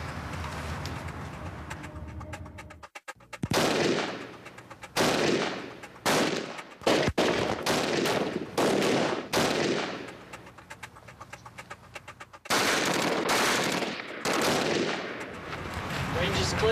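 Gunshots fired into a Dragon Skin body armor vest at a range, loud sharp reports in quick irregular bursts and rapid strings, with brief gaps between volleys.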